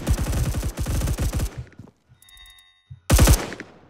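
Gunfire in the video game Phantom Forces: rapid automatic bursts, loud and close, a long volley, a short pause with faint clicks, then another sharp burst at the end.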